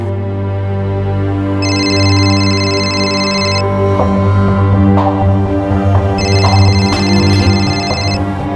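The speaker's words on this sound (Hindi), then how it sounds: "माँ, ये फोन किसका बज रहा है?" A mobile phone ringtone chimes loudly in two bursts, a bright repeating electronic melody over a humming background with a few knocks.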